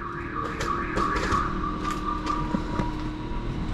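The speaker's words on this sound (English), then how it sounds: "They want me to hit the alarm." An alarm going off indoors, a steady electronic tone with a pulsing pattern that holds for several seconds at moderate loudness, with no one talking.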